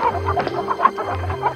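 A chicken clucks repeatedly in quick, uneven bursts, close and fairly loud, with no talking.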